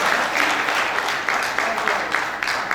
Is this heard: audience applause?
yes